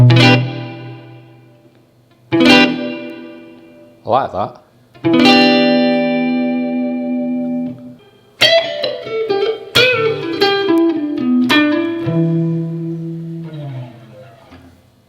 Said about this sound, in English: Now if I put the plate reverb in,